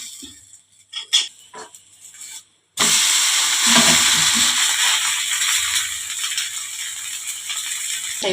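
Flatbread flipped in an oiled pan, a burst of loud steady sizzling that starts suddenly after a few quiet clinks and keeps hissing strongly to the end.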